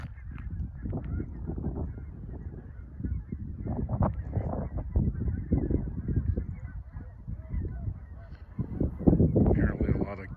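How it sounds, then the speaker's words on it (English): Geese honk steadily in a busy chorus on a lake, a flock calling over and over at moderate distance, with louder overlapping honks near the end. "You can probably hear in the background all the geese."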